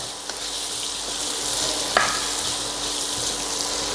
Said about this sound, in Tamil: இப்போ இந்த மாங்காய் நல்லா கொலைய வதக்கணுங்க.